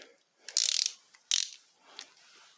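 A Proto ratchet wrench with quick-release socket retention clicks in two quick bursts of sharp, close ratcheting, followed by a fainter single tick, with no talk.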